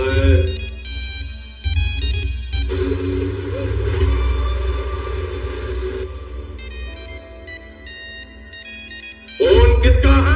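A repeating electronic ringtone plays in bursts over a low engine rumble, with a brief pause partway and a louder surge near the end.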